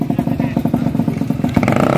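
A motorcycle engine idles close by with a rough, rapid putter, steady and loud, with a slight rev near the end.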